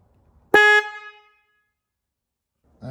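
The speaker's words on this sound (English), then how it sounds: "I want to hear just the Motohorn." A single Motohorn vehicle horn blast sounds with the dual-track horn disconnected: one loud, bright honk lasting about a quarter second, then a ringing decay and silence, with a brief voice starting at the very end.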